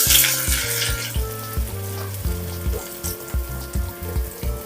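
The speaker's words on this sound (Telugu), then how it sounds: "ఆయిల్ ఫుల్గా వేడెక్కింది. ఒక పెద్ద ఆనియన్ చిన్న ముక్కలుగా కోసి వేస్తున్నాను." Chopped onion and slit green chillies hit hot oil on a high flame for a spicy prawns tawa fry, a loud hissing sizzle at first that settles into steady frying, over a rhythmic, pulsing low hum nearby.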